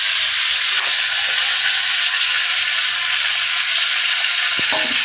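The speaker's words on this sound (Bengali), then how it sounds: "এদিকে পটলটা আমি ভাজি দিচ্ছি" Pointed gourd (potol) frying in a pan on a home gas stove, giving a steady loud sizzle with occasional soft clinks of a utensil stirring, no talking.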